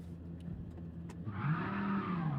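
A race car in Gran Turismo 7 accelerating out of a wide corner entry, its engine note rising steadily and loud after a quieter lead-in, with no talk over it.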